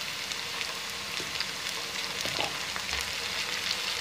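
Ginger garlic paste sizzles in hot oil with golden brown onions, a dense, steady crackle close up that continues without pause and without any talk.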